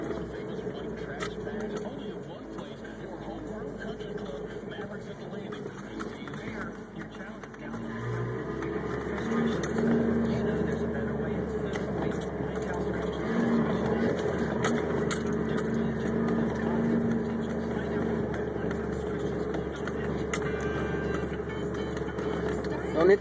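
Car driven by a first-time learner, engine humming low and steady, rising slightly midway, with occasional voices talking over it.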